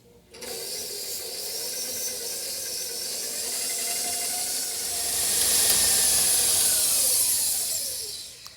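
Butter and brown sugar being creamed by an electric mixer for gluten-free pecan brownies, giving a steady whirring, hissing drone close by that holds level for several seconds, swells slightly, then begins to wind down.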